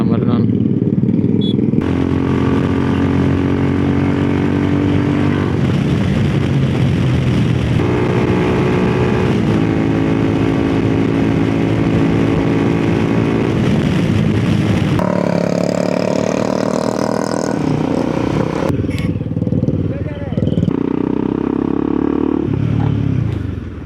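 Steady motorcycle engine drone throughout while riding solo on a highway from Goa to Udupi, with shifting engine pitch and wind rush, loud and close, under someone talking in Kannada.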